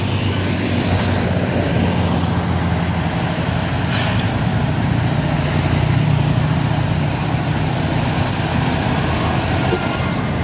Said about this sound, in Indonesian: ini truk trailer